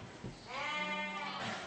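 Merino sheep bleating on a farm, one long wavering close bleat that swells and holds for over a second, loud and alone without talk.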